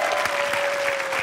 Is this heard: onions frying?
no